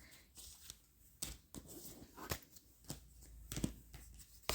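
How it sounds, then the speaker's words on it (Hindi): Tarot cards being gathered and shuffled by hand, heard as quiet, irregular rustles and sharp little snaps of card edges spread over a few seconds, close up with no voices. "so let me get these cards back"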